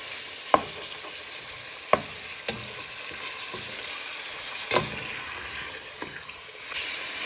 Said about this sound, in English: our pork is nicely cooking for our pork piperade